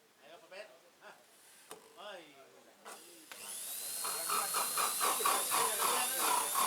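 A drill boring a hole for a pipe and tap whines up steadily and continuously after brief spoken exchanges, close and fairly loud, with voices heard before it starts.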